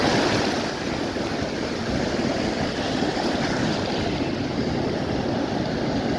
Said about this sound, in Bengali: সমুদ্রের ঢেউ, সমুদ্রের গর্জন আমরা শুনতে পাচ্ছি